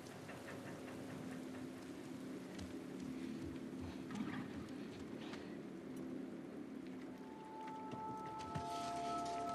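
Boat engine running steadily in the video game The Last of Us Part 2, a low continuous drone mixed with watery, rain-like hiss, moderately quiet with no talk.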